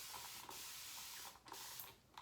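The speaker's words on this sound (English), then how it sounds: "I like using that mister in between passes." A handheld water mister sprays in short bursts during a wet shave, soft airy hisses repeating close by with no talking.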